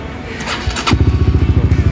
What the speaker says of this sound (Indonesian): Suara mesin masih enak nih, motor gua.